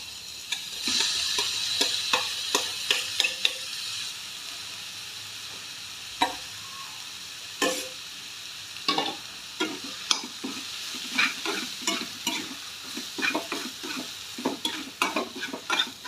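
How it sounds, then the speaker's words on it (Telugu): Dal made with banana flower is stirred in a pan, a steady run of scraping strokes over a low, continuous cooking hiss, close and fairly loud with no voices. "మధ్య మధ్యలో కలుపుకుంటూ ఉండాలి, అడగంటకుండా."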